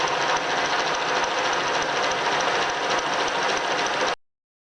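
A drill bores half an inch into a roller under repair, giving a steady, loud, continuous whir that runs unbroken for about four seconds and then cuts off abruptly into silence.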